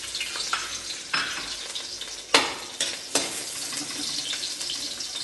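Garlic hits hot oil in a pan for chicken pochero and sizzles loudly and steadily at close range, with a few sharp clatters of the utensil against the pan and no talk.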